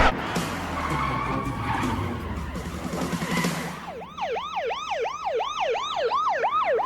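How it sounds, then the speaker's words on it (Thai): A car drifts into a parking spot with the handbrake pulled: a rough, broadband tire skid lasts about four seconds, then a loud wailing siren sweeps up and down in quick, regular cycles. "ดึงเบรกมือทิปปุ๊บรถมันก็จะหมุนเข้าที่จอดรถ"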